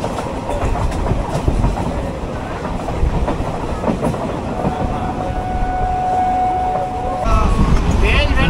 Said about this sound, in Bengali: লোকাল ট্রেন এটা, রানাঘাট লালগোলা লোকাল, টানছে দেখুন।